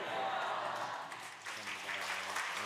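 A church congregation claps during a Sunday worship service in a Korean church, a soft, distant spread of applause that thins midway and continues faintly, with some voices mixed in.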